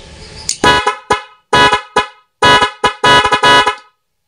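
Newly installed dual car horn sounding in a rapid series of loud, close blasts, short and long honks in an uneven rhythm, with no voices.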